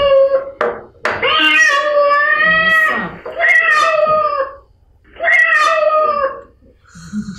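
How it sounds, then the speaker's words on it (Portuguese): Loud, drawn-out cat meows come in repeated long calls, close and dominant, with brief gaps between them, heard during a preschool lesson. "Esse miado, um gato miando?"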